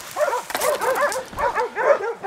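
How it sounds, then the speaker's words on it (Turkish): Several dogs bark and yelp in rapid overlapping bursts while attacking wild boars, a loud, frantic chorus of yips and whimpers close by. "Köpekler bastı şimdi."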